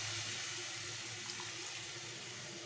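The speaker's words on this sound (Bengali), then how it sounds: "এখানে গরম জলটাই দিয়ে দিলাম" Hot water pours into a shrimp and vegetable curry in a village-style kitchen, a faint, continuous splashing stream lasting the whole short moment.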